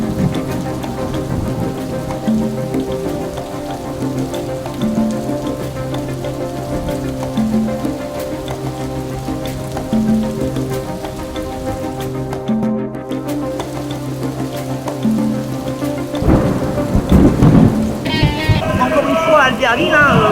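Rain falls during a street protest over pensions in Albertville on March 11, a steady close patter under loud tonal music or chanting. It becomes noisier and more agitated toward the end.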